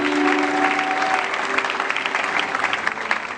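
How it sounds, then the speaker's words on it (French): A church congregation applauds and cheers the Lord at the close of a service, sustained dense clapping with crowd voices throughout, loud and continuous. "On peut acclamer le Seigneur très fort."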